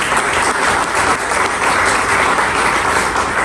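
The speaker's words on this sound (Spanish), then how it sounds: "Denle un aplauso a Jesús" Church congregation applauding for Jesus during a sermon, dense sustained clapping from a large crowd filling the space steadily for several seconds.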